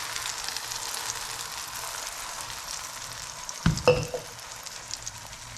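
Mustard and poppy seed paste hits hot oil for a Bengali pomfret fish curry. A soft background sizzle suddenly bursts into a louder, crackling spatter, then settles into uneven frying, with no voices.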